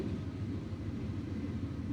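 A train at a railway station gives off a low, steady rumble, continuous and moderately distant, with no talk over it.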